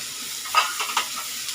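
Tomato masala for egg tawa masala fries in oil in a pan, a soft steady sizzle with a few brief crackling bursts, close and fairly quiet over a short stretch.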